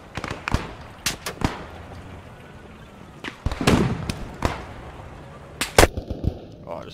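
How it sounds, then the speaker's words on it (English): Gunfire in the World War II shooter Post Scriptum: sharp, loud sniper-style cracks strike irregularly, several in quick clusters with longer gaps, echoing over a quiet outdoor background. "Oh, I just got sniped on that bridge"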